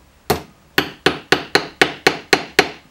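A steel eye punch struck with a hammer while held in a block of wood, giving eight sharp metallic taps in a steady, fairly quick rhythm, close and clear with no talk.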